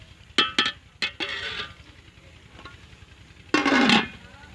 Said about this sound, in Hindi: इसके ऊपर अब हम ढक्कन रख देंगे।